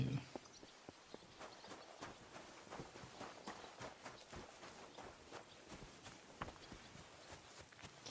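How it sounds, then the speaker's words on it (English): Rapid, irregular hoof clops of horses walking in the video game Kingdom Come: Deliverance II, fairly faint and steady throughout, with a soft ambient background. "I see horses."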